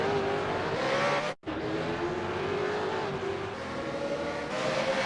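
Supercar tyres losing rear grip in the iRacing sim race, a steady engine drone with a squealing tyre tone, broken by a brief dropout, moderately loud with no talk.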